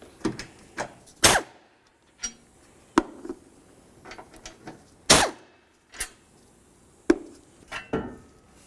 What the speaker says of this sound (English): I'm going to go ahead and start removing all 4 of my 13mm headed bolts.